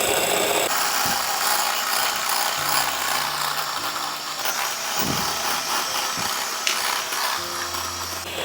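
An electric mixer beating ghee and sugar for cake batter, a loud continuous whirring drone with shifting pitch and occasional bumps against the bowl.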